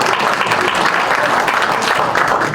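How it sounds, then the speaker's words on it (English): A room at a budget workshop breaks into a loud, dense round of applause for a speaker, continuous clapping filling the short stretch without a break. "Can we give Dr. Gator a round of applause?"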